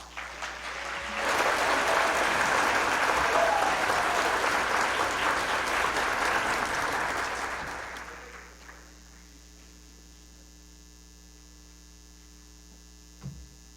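An audience at a school district address claps for the school board chair, applause swelling in after a second, holding loud and even for several seconds, then fading out to a quiet room hum.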